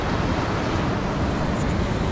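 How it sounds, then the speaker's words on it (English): Heavy surf pounding a coastal cliff on the south coast of New South Wales, Australia, a dense, continuous roar of white water with wind, steady and loud throughout with no voices. "It's just being smashed and smashed and smashed with white water."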